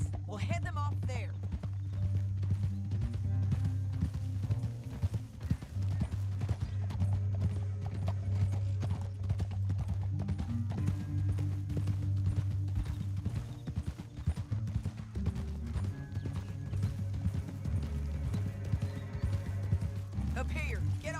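Horse hooves clip-clop at a steady gallop throughout Red Dead Redemption 2, under a dense layer of low rumbling music and game ambience, with a faint whinny near the start.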